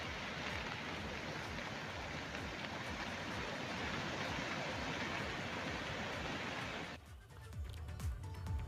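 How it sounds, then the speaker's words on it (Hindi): Heavy rain pours down in a dense, constant hiss alongside a swollen river in the Uttarakhand highlands, the roar dropping abruptly near the end to a thinner, patchier wash of water. "तेज बारिश, बढ़ा हुआ बहाव, उफनती नदियां, ये उत्तराखंड में इस वक्त आम दृश्य ऊंचाई वाले इलाकों में।"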